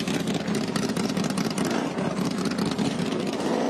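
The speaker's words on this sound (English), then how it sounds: "you can hear the engines going" Ligier F4 race cars run at VIR during an F4 U.S. Championship race, their engines droning and buzzing continuously at a moderate distance, layered into a busy, unbroken mechanical roar.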